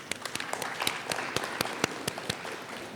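An audience at an Africa–China industrial and infrastructure cooperation conference claps in a modest round of applause, distinct sharp claps scattered over a soft, steady patter, fairly close.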